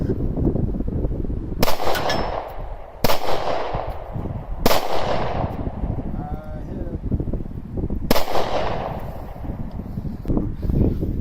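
Pistol gunshots from a Mossberg MC1sc and a Glock 43 at an outdoor range: four sharp, loud cracks spaced a second or more apart, each with a brief echoing tail, over steady background noise and some speech.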